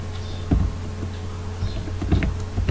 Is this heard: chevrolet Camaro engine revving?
no